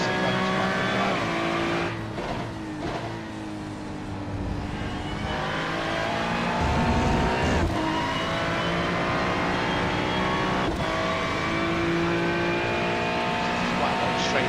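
Ferrari race car engine in a racing video game, revving steadily and loud throughout with gear-change dips and a brief tire squeal, a commentator's voice faintly over it.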